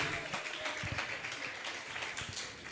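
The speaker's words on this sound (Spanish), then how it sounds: "Bríndele un fuerte aplauso al Señor en esta noche." Congregation clapping for the Lord during an evening church service, a moderate, somewhat uneven patter of hands with louder individual claps scattered through it, fairly quiet overall.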